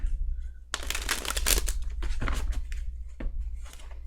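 Tarot cards are shuffled close up in a steady run of crisp riffling and flapping, with a low hum underneath and a brief pause near the end.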